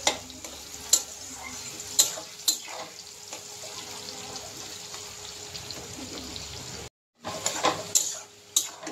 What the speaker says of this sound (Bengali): তেল ভাজতেছি বন্ধুরা, তেল গরম হয়ে গেল